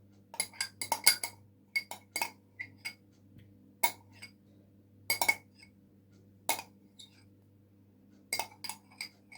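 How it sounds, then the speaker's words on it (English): A spoon adds sour cream to cheesecake batter, giving scattered sharp clinks against a bowl at an irregular pace, with quiet gaps between the taps. "You need to take your spoon and add all of your sour cream"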